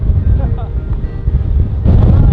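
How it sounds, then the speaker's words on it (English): Strong gusts shake the trees and buffet the microphone, giving a loud, constant roar with low thumps that swell near the end. A voice is heard faintly under the wind. "The winds are so crazy"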